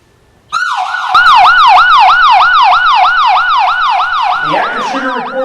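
SchoolGuard armed intruder alarm siren sounding loud and close, a rapid wailing electronic tone that sweeps up and down in steady repeated cycles for about five seconds after a brief silent start, faltering near the end.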